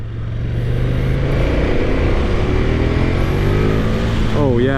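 A 2023 KTM 1290 Super Duke GT motorcycle accelerates around a corner on a test ride, its engine droning steadily and rising in pitch under heavy wind rush, with a brief voice near the end.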